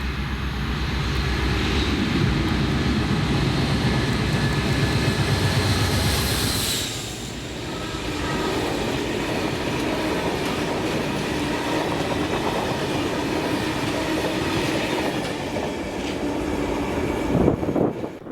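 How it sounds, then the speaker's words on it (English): A loaded freight train of aviation fuel tankers hauled by a class 56 diesel locomotive rumbles past, with a continuous roar and clickety-clack of wagons that swells, briefly dips, then continues loud and near. "here came 6N46, Grangemouth to Prestwick loaded aviation fuels with 56078"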